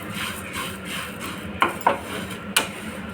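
Dry coriander seeds stirred in a pan while roasting: a soft continuous rustle with three sharp clinks of the spoon against the pan, close and alone.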